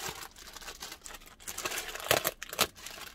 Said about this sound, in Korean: 지금 제가 비닐팩을 벗겼어요